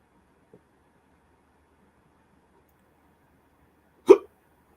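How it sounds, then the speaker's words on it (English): A single sharp hiccup from a person, brief and fairly loud, following near silence with one tiny faint click earlier. "Oh, got the hiccups."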